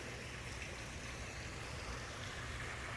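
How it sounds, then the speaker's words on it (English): Outdoor water fountain outside a condo at Pinestone at Palmer Ranch in Sarasota, Florida, a faint, steady splashing wash that continues evenly without breaks. "You can hear the water fountain."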